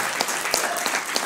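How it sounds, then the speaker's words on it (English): Audience at a training session in San Jose gives a short round of applause, a steady crackle of many hands clapping at moderate loudness throughout the brief moment. "how about a round of applause for Rakesh and Shilpi for fantastic."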